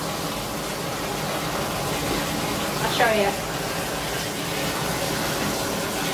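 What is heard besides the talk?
hot water running from a tap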